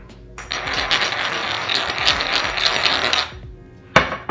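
Salt and pepper being ground by hand, a fast run of dry ratcheting clicks for about three seconds, then a pause and a short final crunch, close and loud.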